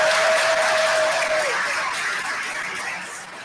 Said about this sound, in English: would you join me in giving her a round of applause?